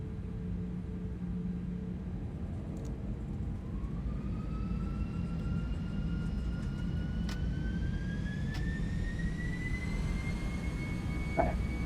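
Airliner engines spool up for takeoff in the X-Plane 11 flight simulator, a steady roaring rumble with a whine that slowly climbs in pitch as thrust builds, loud and continuous.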